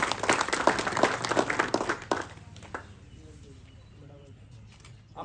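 A crowd at a village panchayat gathering in Kavarpura, Jaipur, claps loudly for about two seconds, then the applause dies away, leaving quiet background with pigeons cooing.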